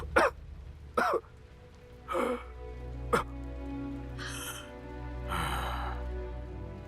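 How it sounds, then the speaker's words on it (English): A man in a historical palace setting coughs in a few short, harsh bursts spread across several seconds, close and fairly loud, with breathy gasps between and a low steady background hum. "Since when have you been coughing up blood?"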